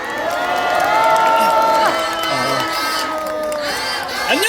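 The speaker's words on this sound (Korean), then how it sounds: "큰 박수로 맞아주시기 바랍니다." A crowd at a university rally against impeachment, held at the University of Seoul, cheers and shouts as a speaker is welcomed. The noise is loud and sustained, with whoops and some voices rising over the din.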